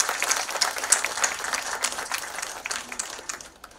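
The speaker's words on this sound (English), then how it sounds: "can we fill this room once again with a big round of applause?" An audience at a launch ceremony attended by dignitaries bursts into applause, a lively spread of many clapping hands with uneven swells that gradually thins out toward the end.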